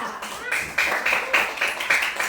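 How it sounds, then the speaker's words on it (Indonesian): Classmates clap for group 3, a handful of hands striking in a loose, regular beat of about three claps per second, close and moderately loud, with faint voices mixed in. "Tepuk tangan untuk kelompok 3"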